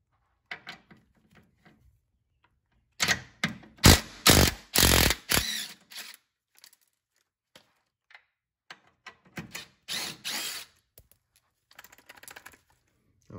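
A ratchet backing out 13 mm bolts during an Audi B5 S4 engine removal, heard as bursts of quick metallic clicking around 3–6 and 9–11 seconds, with sparse tool taps and quiet shop gaps between.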